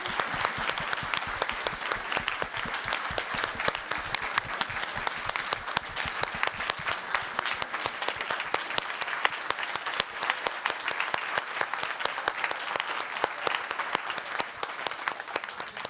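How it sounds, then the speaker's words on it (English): An audience at a fall research center meeting gives steady, sustained applause for the speakers and panelists. The dense clapping continues throughout the clip at an even level. "can we please give a round of applause for our wonderful speakers and panelists?"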